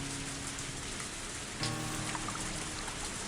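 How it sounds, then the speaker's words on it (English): Steady rain falls in a video game scene, a dense even hiss of drops pattering on surfaces with a slight thump partway through, no voices. "I started running through the rain."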